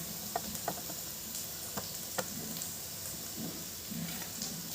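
Tomatoes hit translucent frying onions in a pan, giving a steady close sizzle broken by scattered clicks and scrapes of stirring, with no voices.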